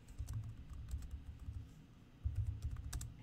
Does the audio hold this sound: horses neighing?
no